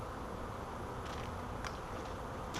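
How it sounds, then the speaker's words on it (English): Honeybees fan at the entrance of a swarm trap, giving a continuous close buzzing drone with a few individual bees flying past. "There are several bees on the front fanning and spreading the colony scent, the queen pheromone, out."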